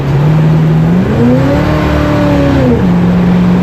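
A Jeep with a cable-operated transfer case shifter accelerates hard from close by, its engine note climbing smoothly, then dropping and settling as it takes off. The sound is loud and continuous, with no talking.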